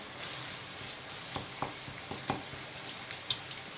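Ground meat frying in a pan as it softens, a soft steady sizzle with scattered sharp pops and crackles in the second half, close and alone.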